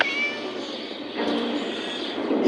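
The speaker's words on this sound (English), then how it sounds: "Shut up, you silly cat." A cat meowing in the Scary Teacher video game, a loud, drawn-out plaintive meow close up that rises into a longer wailing cry, heard alone without talk.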